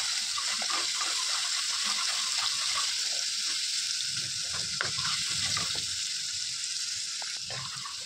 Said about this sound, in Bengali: এবার এগুলো একটু হালকা হালকা একটু ফ্রাই করে নিচ্ছি।